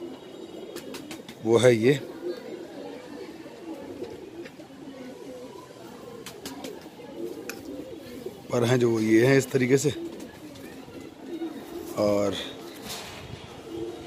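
Punjabi Malwai pigeons in a breeding setup give a few short, throaty coos in separate bursts, near and moderately loud, while someone talks over them in between.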